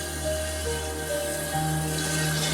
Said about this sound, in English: Put just a little water in. Enough to where we can shake this around